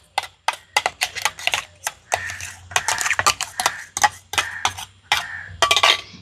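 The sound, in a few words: stirring mango paste into sugar syrup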